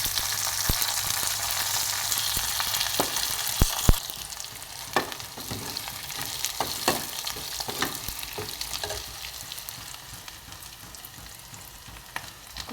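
Cumin, urad dal, curry leaves, green chilies and a pinch of hing sizzling steadily in hot oil, with a continuous close frying hiss broken by sharp pops and crackles and no talking.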